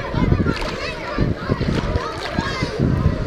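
Children splash and shout in a public outdoor swimming pool in a city park in Mountain Home, Idaho, with water sloshing and overlapping kids' voices in a busy, lively summer scene.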